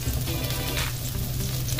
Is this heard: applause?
no